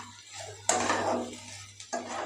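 A pan holding ground cumin and black pepper for a lote fish ball filling gets stirred, with a few sharp metal clinks and scrapes of a spoon against the pan over a low background hum.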